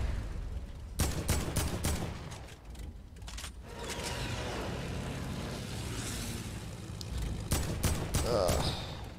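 Gunshots ring out in a battle royale video game, several sharp cracks spread across the clip over a noisy game background, with players talking over it.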